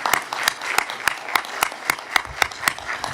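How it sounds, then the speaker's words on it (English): A school board meeting audience gives a round of applause for Brentwood High School students, a steady pattern of sharp individual claps, fairly close and sparse, like a small group clapping. "I think they deserve a round of applause for that."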